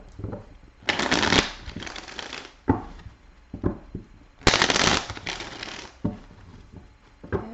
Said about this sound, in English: So I do like to shuffle on camera.